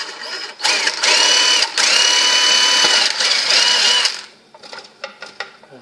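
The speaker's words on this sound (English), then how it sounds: "This is the second hole I'm drilling now." A power drill whines loudly in sustained bursts as it bores through material, then stops, leaving a few short, quieter spurts and clicks.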